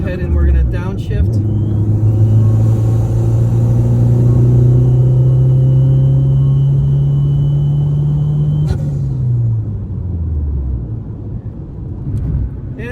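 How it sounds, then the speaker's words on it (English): A Toyota Supra engine drones loud and close in a steady low tone on a track behind pace cars, then its pitch drops away near the end as the car downshifts; a voice talks over it. "But we're going to go ahead and we're going to downshift."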